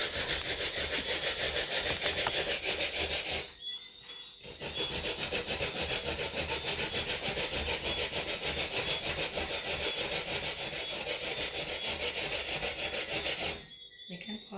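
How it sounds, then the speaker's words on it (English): Coconuts being hand-grated for gizzadas: a steady, continuous rasping scrape that runs loud and unbroken, pausing briefly twice before resuming, with no talk. "we're finished grating our coconuts"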